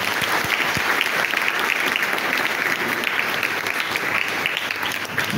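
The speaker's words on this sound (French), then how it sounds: "je voudrais qu'on acclame cette famille" A church congregation at a Sunday mass applauds a family, with dense sustained clapping from many hands that fills the room evenly for several seconds.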